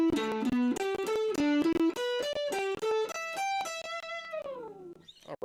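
Electric guitar plays a skip-a-string blues lead pattern, a quick sequence of single picked notes in an even rhythm ending on a sustained, sliding final note, clean and close.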